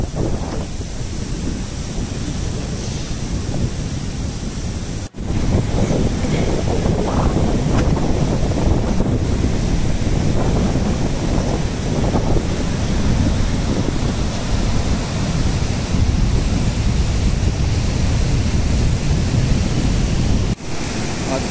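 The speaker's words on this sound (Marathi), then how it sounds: "भरतीचा टाइम चालू आहे. मस्त समुद्राचा आवाज आहे." Sea waves washing onto a beach at high tide on the Konkan coast at Dapoli, Maharashtra: continuous broadband surf roar with wind buffeting the microphone, steady and fairly loud throughout with no clear voices.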